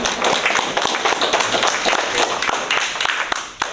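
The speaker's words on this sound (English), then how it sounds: "Let's give another round of applause" A small group at a Rotary club meeting gives a round of applause, close and fairly loud clapping that runs on and then tapers off near the end.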